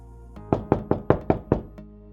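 Six firm knocks on a door in an empty loft apartment in Toronto, sharp evenly spaced raps close by, framed by softer taps just before and after.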